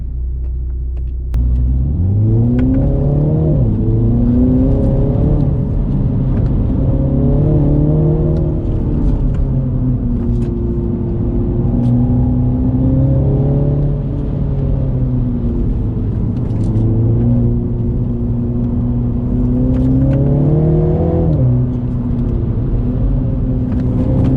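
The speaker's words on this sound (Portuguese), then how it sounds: "Vamos aqui botar o câmbio em drive e vamos partir." A MINI John Cooper Works GP3 shifts into drive and pulls away, its engine note rising and falling loudly through the gears in a steady, close rumble as it accelerates.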